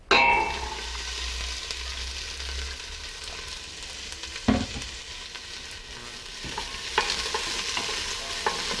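Onion, carrot and celery cut in small pieces hit hot oil in a large pot on medium heat, giving a loud initial sizzle that settles into steady frying with occasional spoon stirs and clinks.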